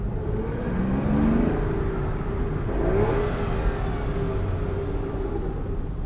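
An Aston Martin DB9 engine revs up twice and then settles into a deep, rumbling drone that echoes off surrounding walls, loud and close, with no voices.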